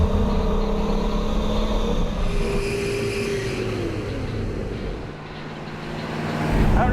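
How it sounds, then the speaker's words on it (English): Engine of a 1969 Hellcat Charger Mopar running on the road, a steady loud rumbling drone with some pitch shifts as it revs, swelling again near the end. "this old Mopar's running a little better than whenever we took it for a test bed"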